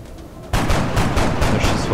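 Following a brief quiet moment, loud gunfire in XCOM: Enemy Within erupts in rapid bursts, a steady stream of sharp shots close up.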